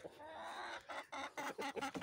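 Chickens clucking in short, close bursts, a few quick calls in a row with brief pauses between them.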